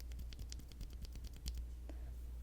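Bee-Sun Creamy Purple 5-pin switches on a KN85 keyboard are pressed in a quick run of soft, close clacks, a dozen or so rapid keystrokes trailing off near the end.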